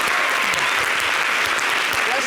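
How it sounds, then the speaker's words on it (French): Audience applause in a French summer TV entertainment show, a steady dense wash of clapping that holds loud and even throughout, with some voices mixed in underneath. "Applaudissez-moi."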